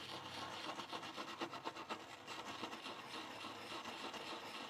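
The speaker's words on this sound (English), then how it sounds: "Work a brush around real easy." Stainless wire brush scrubbing corrosion off the carburetor of a 1975 Mercury 20hp outboard, a quiet, continuous rapid rasping with uneven back-and-forth strokes, close-up and without talk.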